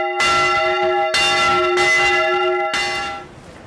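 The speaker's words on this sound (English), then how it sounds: "The bells of St John's Church in Bollington peal out for the final time." Church bells of St John's Church in Bollington peal loudly and close, several strikes ringing with long overlapping resonance before fading away at the end.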